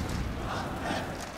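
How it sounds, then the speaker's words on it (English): A large live esports arena crowd at a Counter-Strike grand final on Mirage in Katowice chants for the player Hunter, a broad steady roar of many voices rising and swelling throughout. "Hunter getting his own chant from the crowd."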